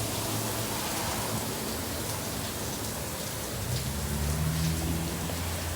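Spray jets in an Istobal automatic car wash douse a car, making a steady hissing, rain-like wash of sound that continues throughout with a low rumble of machinery underneath.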